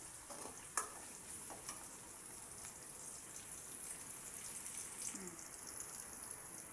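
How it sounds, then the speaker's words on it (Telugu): Sesame curry frying in a pan gives a faint, steady crackling sizzle with a few soft stirring knocks, heard alone and quietly. "ఎర్రగా వేగాలండి అప్పుడే కూర అనేది టేస్ట్ వస్తుంది"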